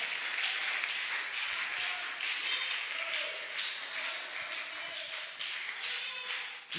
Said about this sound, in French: Donnez une main d'acclamation.